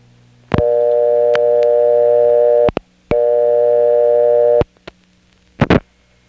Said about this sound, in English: actually hear some of the sounds that are coming from the wire trunks that the Raleigh step uses to get to our destination